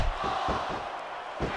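Capacity arena crowd roaring steadily in the wrestling video game SmackDown vs. Raw 2006, a dense continuous cheer with surging swells, no talk over it.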